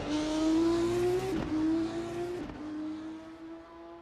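A Formula 2 race car at Silverstone in a racing video game on its slowdown lap: a steady, close engine whine that steps down in pitch at each gear change as the car eases off.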